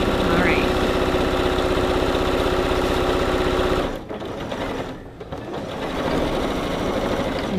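A sewing machine stitches a drawstring backpack, a steady close mechanical whirr with a fast rhythmic hum that pauses briefly and then starts again.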